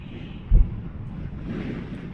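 Wind blowing past a riding microphone on the Mine Shaft Alpine Coaster in Big Bear, California, a steady low rush with one brief gust-like thump early on and a slight swell toward the end.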